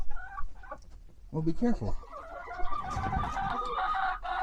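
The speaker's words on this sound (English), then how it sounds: "look at all those chickens" Farm chickens cluck and call nearby in short bursts, with one drawn-out squawk, while a person speaks briefly over them.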